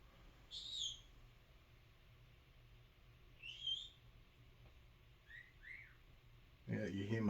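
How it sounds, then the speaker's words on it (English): A pet parrot screams from another room, three or four short, high, piercing calls spaced a few seconds apart and muffled by distance, followed by a louder close handling rustle at the end. "you hear my parrot in the other room"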